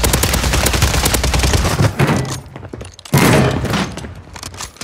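Rapid automatic gunfire from the Warzone 3 shooter game crackles in loud, dense bursts, breaks off into a brief lull, then resumes with another heavy volley up close.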